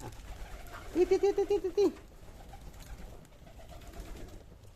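A pigeon, one of a flock of recovering pigeons kept with chickens and ducks, gives a single rhythmic cooing burst of about seven pulses, close and fairly loud, amid faint background noise.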